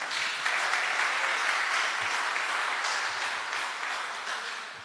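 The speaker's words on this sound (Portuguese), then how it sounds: "Você pode aplaudir o Senhor?" A church congregation claps steadily and loudly throughout, a dense, continuous applause that fades slightly toward the end.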